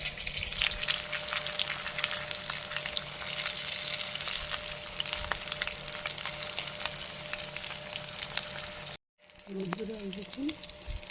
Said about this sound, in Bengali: এই দেখুন মাছ ভাজা হয়ে এসছে